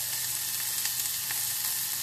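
Seasoning sautéing in a hot pan for a Jamaican breakfast, a continuous bright sizzle and crackle with small pops, close and steady, no voices.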